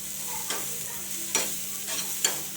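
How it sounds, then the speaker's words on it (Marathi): Green chili thecha paste fries in oil in a pan, a continuous close sizzle broken by three scraping strokes of a spatula stirring it. "पूर्णपणे ठेचा तेल ओढून घेत आहे आणि छान असं परतला गेलाय"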